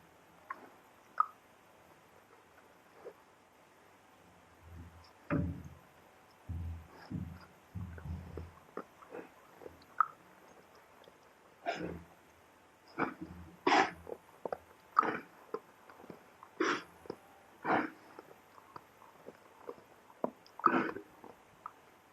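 A milk cow chews feed at close range during halter training, irregular wet crunches and soft grinding in uneven bursts, with occasional snorts and shuffles over a quiet background.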